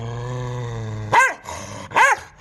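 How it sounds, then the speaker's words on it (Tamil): A dog gives a low, sustained growl, then two loud, sharp barks in quick succession, close by. "அந்த நாயை பார்த்து இந்த நாய்க்கு பயமா?"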